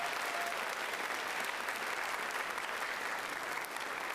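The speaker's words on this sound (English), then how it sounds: "Can we have a huge round of applause for our speakers from before?" An audience gives a sustained round of applause for earlier speakers at an inspirational talk event, a dense, steady wash of clapping that runs at a soft, distant level throughout.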